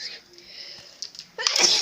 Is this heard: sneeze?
yes